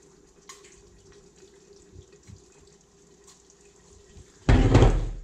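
Water is poured into a pan of browned pork kidneys, giving a sudden loud sizzling rush near the end after quieter kitchen sounds.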